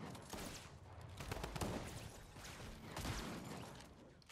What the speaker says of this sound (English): I'm gonna use a hand cannon.